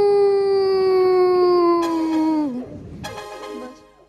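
A human voice imitates a jackal's howl: a long, steady, falling howl that breaks into a shorter yelping cry. It is close and prominent, with no other sound behind it.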